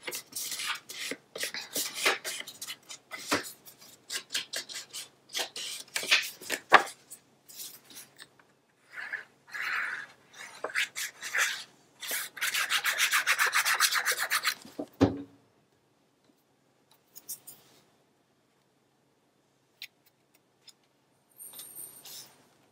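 A paper trimmer cuts paper for a mini album with a series of close scraping and sliding strokes in irregular bursts, one longer continuous rasp near the end, then near silence with a few light taps.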